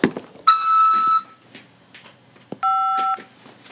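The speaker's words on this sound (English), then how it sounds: "press 5 to accept this call" Two electronic telephone keypad tones sound in turn on a collect call from a corrections facility, each a steady beep lasting under a second, separated by quiet background noise.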